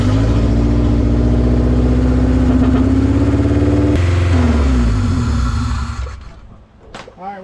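A K-swapped Honda Integra engine runs loud and close with a throbbing, slightly uneven idle, then cuts off abruptly near the end, leaving a faint voice.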